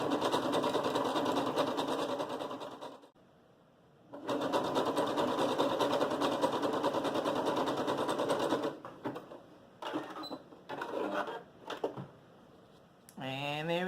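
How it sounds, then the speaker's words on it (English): Domestic sewing machine running a zigzag stitch along the long edge of a fabric strip for a beginner headband, steady whirring bursts with short pauses between runs, close and loud. "So it is stitch a little zigzag stitch all the way down the long side."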